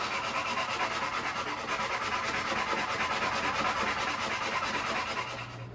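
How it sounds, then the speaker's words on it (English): A hand sanding bar fitted with 80 grit paper scrubs across a boat's cabin top in rapid, even back-and-forth strokes, loud and close, continuing steadily before easing off at the end. "So that's what the sanding bar is for. Except I'm going to change to an 80 grit."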